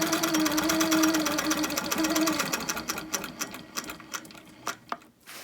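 Sewing machine stitching a straight quilting line on a wholecloth quilt, a close, steady mechanical whir that runs for about two seconds, then shorter start-stop bursts and clicks as the stitching backtracks.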